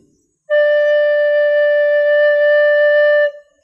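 One steady, bright flute tone with all holes covered, including the small one, held for close to three seconds, sounding alone and ending cleanly.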